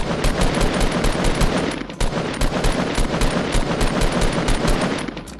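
Rapid automatic gunfire from the Fortnite Battle Royale video game, loud sustained bursts of dense rhythmic shots with a brief pause near two seconds, close and continuous with no voices over it.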